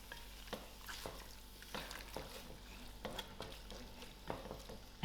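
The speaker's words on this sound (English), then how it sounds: "I'm also going to add in my salt and mix it up properly." Lamb meat being stirred with salt in a pot, faint scraping and soft irregular clinks of a utensil against the pot over a low sizzle.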